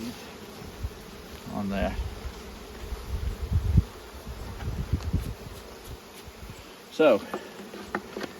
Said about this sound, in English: They're still getting bees